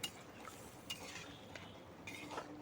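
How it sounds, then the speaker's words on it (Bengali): Water is stirred into jackfruit curry in a pan: faint, close scraping and soft clinks of a spoon in brief strokes over a low background hiss. "জলটা দিয়ে খুব ভালো করে নাড়াচাড়া করে মিশিয়ে দিচ্ছি"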